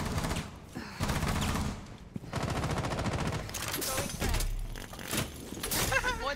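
Rapid bursts of automatic gunfire in the video game Rainbow Six Siege, dense rattling volleys with sharp impacts, loud and continuous for several seconds, with players talking over it.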